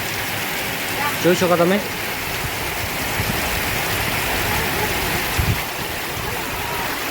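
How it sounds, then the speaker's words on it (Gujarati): Heavy rain pours steadily over a village in Banaskantha, a constant broadband hiss of downpour throughout, with a brief voice speaking early on. "તો બનાસકાંઠાની અંદર રાજકોટ ગામમાં ભારે વરસાદ ચાલુ થઈ ગયો છે"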